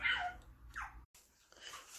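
A pet dog whimpering indoors near a water pot being prepared on a stove. It makes a couple of short, high, nasal whines close by, broken by a brief moment of silence.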